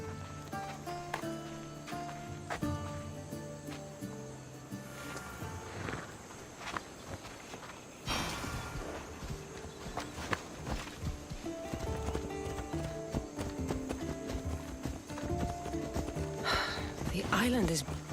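Horse hooves clip-clop at a steady walking pace while riding in Assassin's Creed Odyssey, with a whinny and a snort, mixed with game music and characters talking over the ride.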